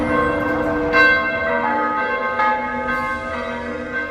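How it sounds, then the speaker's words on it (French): Church bells ring at the Santa Isabel hotel in Europa Park, a steady resonant peal with repeated strikes and long ringing overtones, fairly loud and close, with no voices. "En entendant ces cloches"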